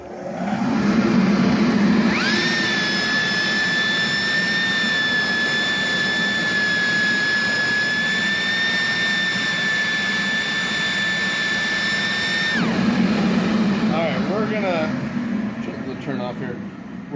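A Rikon dust collector runs steadily during an airflow test, giving a loud, continuous roaring rush with a high tonal whine that starts about two seconds in and holds for roughly ten seconds before easing off.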